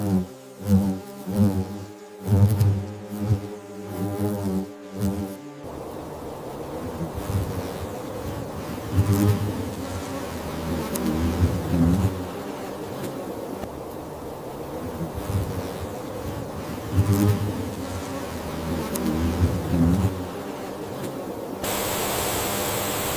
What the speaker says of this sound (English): The paper wasps respond aggressively, swarming the giant huntsman in a dramatic defense of the nest.